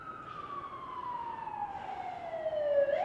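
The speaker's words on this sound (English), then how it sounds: "Sirens every hour on the hour." An emergency vehicle siren in downtown Seattle sounds a single long wail that slowly falls in pitch, heard clearly at moderate distance with no talk.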